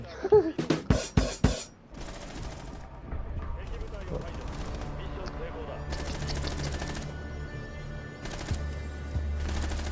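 Gunfire in the video game Rainbow Six Siege: a rapid burst of loud shots up front, then sustained weapon noise and more shots at a lower level, with game sound underneath.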